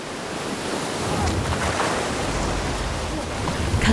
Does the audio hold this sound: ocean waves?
yes